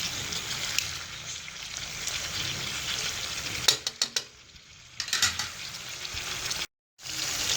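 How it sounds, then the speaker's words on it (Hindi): Pieces of Afghani chicken fry in a pan with a steady, bright sizzle, broken by a few clattering knocks and brief gaps as the pieces are turned. "इसे दूसरी साइड से भी इसे अच्छी तरह ऐसे ही फ्राई कर लेंगे हम"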